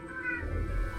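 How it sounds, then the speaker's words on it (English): A cat meows once or twice nearby in a drawn-out, wavering cry, heard alone without talk. "Cat's gonna come over to hang out."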